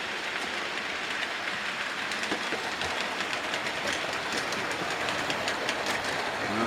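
A model train rumbles over a bridge on a loft layout with rhythmic clickety-clack of wheels on track, steady and moderately close, with no talking.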